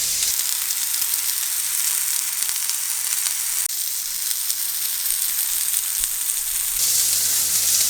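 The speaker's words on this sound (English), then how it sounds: "I will put the burger in my hot grill pan" A burger frying in a hot grill pan with olive oil, a loud, close, continuous hiss and sizzle that holds steady without pause and with no voice over it.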